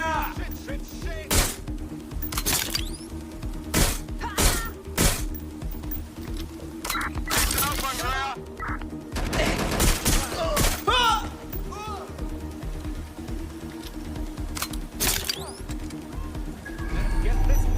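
Gunfire in the video game Watch Dogs Legion: sharp bursts and single shots crack out repeatedly at irregular intervals, mixed with other game effects and shouted voices, moderately loud throughout.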